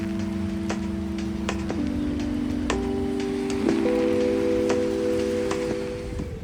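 Rain falls steadily on a street in Paris as an even hiss of drops, scattered with sharper close ticks and drips. Faint sustained tones sit underneath.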